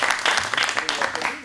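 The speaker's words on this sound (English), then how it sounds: "Round of applause." A magic-show audience claps in a short, loud burst of applause, with a voice audible over the clapping.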